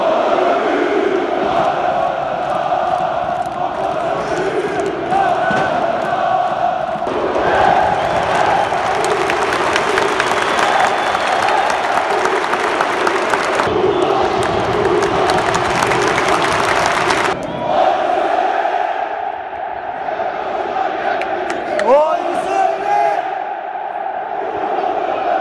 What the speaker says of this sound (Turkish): İki takım taraftarları da hem birbirlerini bağırlarına bastı hem de güzel tezahüratlar söyledi.